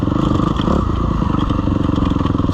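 A dirt bike climbs a rocky trail strewn with softball-sized rocks, its engine droning loud and close with a pulsing beat while the chassis clatters and rattles over the stones, no voices heard.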